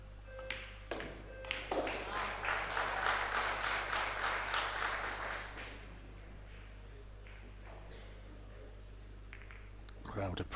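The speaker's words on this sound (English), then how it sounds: "Crowd appreciating that from their local hero." A crowd at a men's international pool open in Spain applauds a shot by their local player, a burst of clapping that swells and fades after a few seconds, followed by quiet hall ambience.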